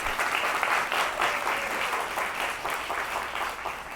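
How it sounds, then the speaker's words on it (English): A business event audience gives a sustained round of applause, dense steady clapping from many hands filling the room for several seconds before easing slightly toward the end. "Give our change makers a round of applause"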